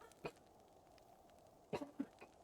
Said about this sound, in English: Coughing really takes it out of you.